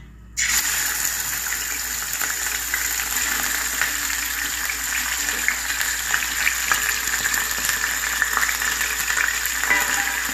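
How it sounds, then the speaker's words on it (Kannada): Chicken pieces sizzle steadily in hot oil in a pan, a continuous close crackling hiss that starts abruptly and runs for about ten seconds with no talking. "ಇವಾಗ ಸ್ವಲ್ಪ ಎಣ್ಣೆ ಕಾದೈತಿ. ಆ ಬಳಿಕ ಇದೇನೈತಲ್ರಿ ಚಿಕನ್ನ ಇದಕ್ಕೆ ಹಾಕೊಂಡ್ರಿ"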